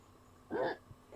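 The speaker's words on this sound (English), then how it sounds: "excuse me, hiccup." A single short, close hiccup, one brief voiced gulp in a quiet room.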